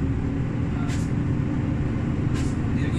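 Two short bursts of air brake hiss stand out over a steady, loud low rumble of a Volvo FH460 heavy truck engine hauling an empty container.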